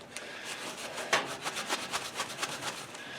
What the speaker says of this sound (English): put a little brake parts cleaner on a rag, clean that surface underneath